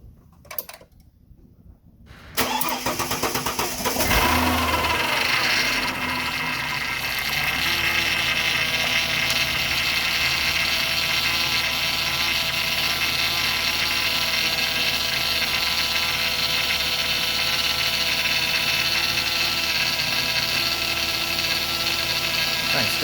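A Ford Falcon BA/BF engine idling during a power steering flush while air bleeds from the system. A brief clatter comes first, then a steady, fairly loud mechanical drone and whine with a high hum, running evenly and alone.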